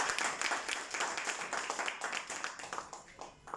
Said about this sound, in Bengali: সাগর স্যারের জন্য একটা করতালি আশা করতেছি।